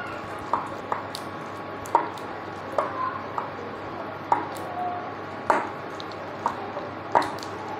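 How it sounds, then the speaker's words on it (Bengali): Palm fritter batter mixed with grated coconut is beaten in a bowl, giving irregular, fairly close taps and knocks of the utensil against the bowl over a low steady background hum. "ভালো করে ফেটিয়ে নেবো।"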